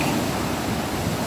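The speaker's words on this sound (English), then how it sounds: "This is like good sea wind" Sea wind blows by the ocean at Hilo, Hawaii, a loud, steady rush of air and surf buffeting the microphone with no talking.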